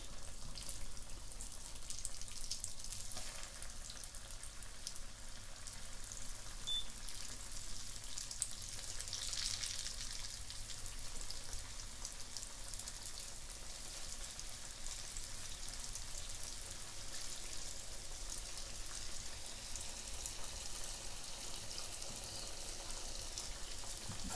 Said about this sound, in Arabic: هسه هذا دهن غزير راح اقلي بيه، راح اخليها على حرارة متوسطة واقليها